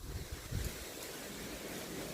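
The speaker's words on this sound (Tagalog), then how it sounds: "naririnig nyo ba yung hangin? Ang lakas ng hangin." Strong summer wind blowing through a garden, a steady loud rushing roar with gusty buffeting on the microphone near the start, no talk.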